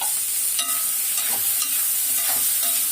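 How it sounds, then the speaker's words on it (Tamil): Tomatoes sautéing in a pan for pirandai chutney, a loud steady sizzle with a few scraping stirs of the spoon and no talk. "நல்லா வதங்கணும் பிள்ளைங்களா."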